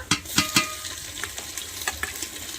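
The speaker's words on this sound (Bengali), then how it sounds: "এবারে আদা রসুনটা দিয়ে দেবো আদা বাটা" Ginger-garlic paste drops into hot oil in a pan while cooking khichuri during a rainstorm, giving a few bursts of sizzle and crackle with stirring scrapes, close and moderately loud.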